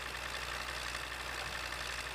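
An MTZ tractor engine idles in the game Farming Simulator 15, a steady low mechanical drone at moderate level with no talk over it.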